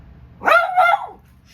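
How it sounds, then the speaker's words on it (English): A single loud, close dog bark, a sharp two-part yelp lasting about half a second, stands out against a quiet indoor room. "And the dog is so loud, I'm sorry."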